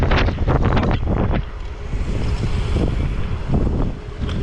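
Strong gusts of wind buffet the microphone on a seaside boardwalk in Aruba. The roar is loud and continuous, with heavy low rumbling surges throughout.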